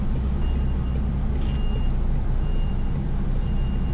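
A truck reverse alarm beeps steadily in repeated tones over a continuous engine rumble and road noise, moderately near.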